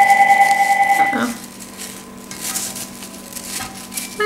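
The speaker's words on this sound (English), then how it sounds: "My phone's ringing." Mobile phone ringing in a steady tonal pattern during the first second, then stopping, followed by quiet rubbing and handling sounds nearby.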